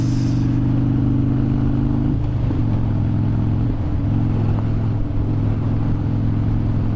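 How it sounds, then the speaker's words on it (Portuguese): Steady rumbling engine of a truck driving over uneven ground on a road trip from Campo Grande, Mato Grosso do Sul, toward Brasília, with low harmonic drone throughout and slight bumps midway, no talk. "Caminhão fazendo caminhonice."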